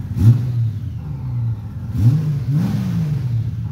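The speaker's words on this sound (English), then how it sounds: "Carburetor's rebuilt. Fires right up." Engine with a freshly rebuilt carburetor firing up and revving, with two distinct rev bursts rising and falling over a steady idle, close and fairly loud, no talking.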